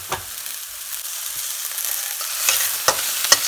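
Sliced onions cook down toward caramelized in a pan for a bitter gourd and mango curry. A soft, even sizzle is broken by a few sharp clicks of stirring, with no voices.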